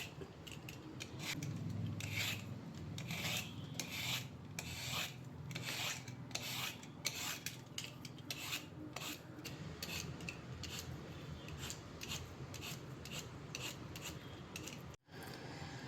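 Ridge gourd skin being scraped and peeled in steady, close rubbing strokes, a dry rasping texture repeating quickly and evenly with no voices.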